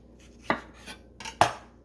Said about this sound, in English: when you're chopping, you're going to have to take out any bad spots